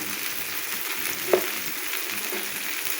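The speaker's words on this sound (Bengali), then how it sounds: "এই আলু বেগুনগুলো খুব সুন্দর করে ভেজে নেব" Potatoes and eggplant fry in a pan with salt and turmeric for a spinach dish, a continuous soft hiss close by with a single small clink of a utensil partway through and no voices.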